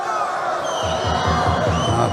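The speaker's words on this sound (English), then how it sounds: "Oh, crowd getting a little bit agitated up there." A restless crowd at a women's judo Grand Slam gold medal contest in Dushanbe builds a rhythmic series of low thumps, like clapping or stamping, over a general roar.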